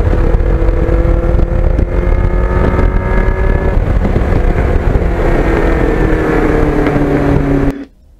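A 1989 Kawasaki GPX750R ridden along a shaded park road, its engine a loud, steady drone that rises and falls in pitch under heavy wind rush, then cuts off abruptly at the end.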